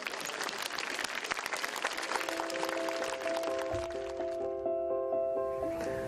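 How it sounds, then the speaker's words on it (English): Dense clapping from a gala audience at the Miss Tahiti 2017 evening fills the room, then thins out as sustained musical tones rise underneath and carry on alone. "sous vos applaudissements, un reportage dédié à Monsieur Robert Vann. Je vous demanderai bien de l'applaudir fort."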